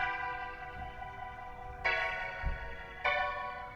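Piano chords run through a UVI Rotator rotary organ effect, giving an organ-like swirling tone; sustained notes with two fresh chord attacks, clear and alone.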